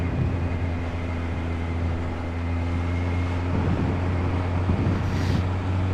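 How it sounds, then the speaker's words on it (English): Inside a moving car, a steady wind and road roar fills the cabin with a constant low hum, fairly quiet and unchanging, with a faint rustle near the end. "So the wind noise takes over."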